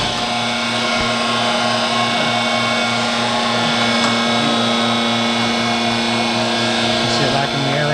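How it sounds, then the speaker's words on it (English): A vacuum machine pulls air out from under sign lettering to make it adhere, giving a loud, constant motorized whine and roar that holds steady throughout with no pauses. "See it vacuum the air right out. That's sucking the air out."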